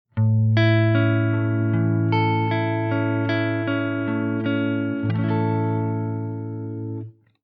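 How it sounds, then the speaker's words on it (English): A sustained electric guitar tone through a Meris LVX delay pedal with stereo panning rings out, notes shifting and layering over several seconds before fading near the end. "we can still hear the panning that we've set up."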